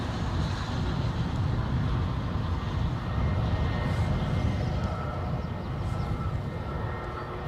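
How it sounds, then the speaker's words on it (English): Airliner bound for Lanzarote taxiing at Newcastle International Airport, a steady rumbling engine roar heard from a distance with no pauses. "It's Lanzarote that is currently working its way down the taxiway."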